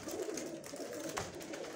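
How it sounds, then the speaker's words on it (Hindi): Pigeons at a pigeon club loft, one bird giving a low soft coo that rises briefly over faint background noise, close and short. "ये दोस्तों अपने कबूतर है जी"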